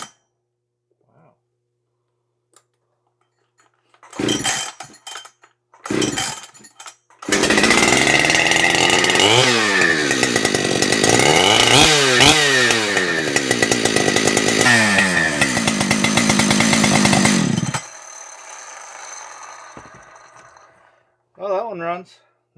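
A ported Husqvarna 592 or 585 chainsaw pulls over with a few short coughs, then fires and roars loud and close for about ten seconds, revving up and down before cutting off, with brief voices around it.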